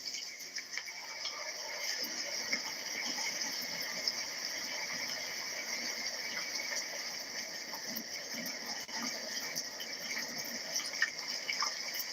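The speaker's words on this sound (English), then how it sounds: "you can see water is coming down from over there. And it's going to trickle on down." Water trickles and splashes steadily down from overhead throughout, a constant light flow with a faint insect-like hiss in the background and no voices.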